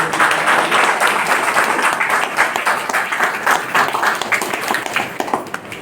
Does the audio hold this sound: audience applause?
yes